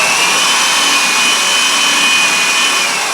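A power drill whines steadily at high pitch as a sharp bit cuts continuously on an MG Midget, throwing big flakes, loud and close, with no pauses.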